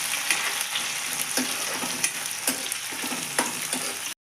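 Onion pieces sizzle and fry steadily in a pan, a continuous close crackle broken by several soft scraping stirs, before cutting off abruptly near the end.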